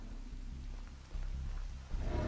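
Steady broadband hiss of rain in the video game Dead by Daylight, with low rumbling underneath, continuous and fairly loud throughout, swelling slightly near the end.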